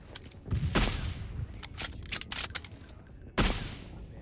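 M4 rifle fire rattles out in short bursts during a video game sniper match, with a couple of louder volleys and scattered sharp clicks between them.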